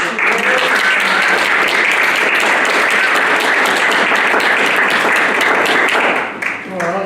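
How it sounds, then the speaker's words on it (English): An audience at an evening history lecture gives a loud, sustained round of applause to welcome the speaker, dense clapping filling about seven seconds before briefly dipping and fading. "So can we give Aidan a welcoming round of"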